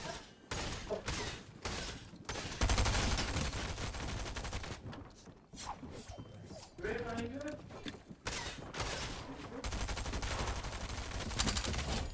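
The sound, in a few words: gunfire in a video game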